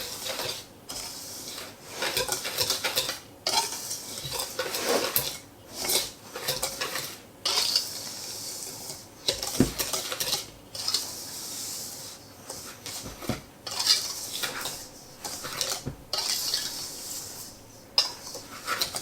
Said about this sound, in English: I'm going to stir all this together.